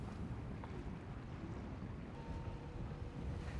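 A sailboat motoring off the coast of Croatia, heard as a steady, close rumble of engine and water rush mixed with wind buffeting the microphone, with no speech.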